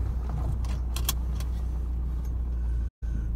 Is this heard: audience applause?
no